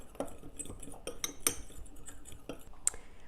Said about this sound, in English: Just take a fork, mix that up.